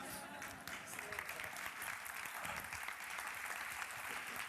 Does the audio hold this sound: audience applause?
yes